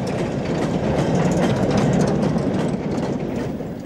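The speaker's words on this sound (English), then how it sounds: "versatile Class 8F 280s on a heavy freight at Normanton" An LMS Class 8F 2-8-0 steam locomotive hauls a heavy freight train at Normanton, a loud, steady rolling rumble with rhythmic clatter of wagons passing close by, without speech.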